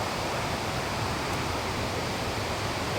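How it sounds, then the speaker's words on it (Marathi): Steady broadband roar of a waterfall at Chandranagar village near Dapoli in the Konkan, loud and continuous throughout with no breaks or voices. "हा माझ्या चंद्रनगर गावातला धबधबा आहे"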